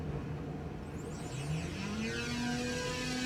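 An E-Flite EC-1500 RC plane motor at full throttle with full flap, taking off from an aircraft carrier deck, a loud whine rising steadily in pitch as it accelerates.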